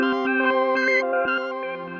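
A Polyend MESS multi-effects pedal plays a fast sequenced pattern of bright, tonal notes, steady pulsing steps with chorus-like shimmer and echo, loud and alone.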